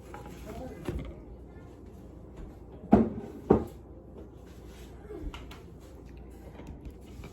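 A kitchen drawer pops open with two sharp, close knocks in quick succession, set against quiet room tone and faint background movement.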